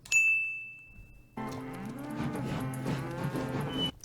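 A bell dings once, then several cartoon cows moo loudly together in long overlapping calls near a railway track.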